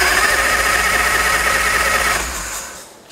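Chopper motorcycle engine running steadily, a loud close rumbling idle with a fast, even mechanical throb that eases and fades away near the end.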